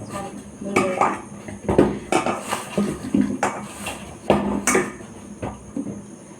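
Eggplant being cut on a board in a home kitchen: irregular knife knocks and taps with clattering utensils and dishes, close and moderately loud.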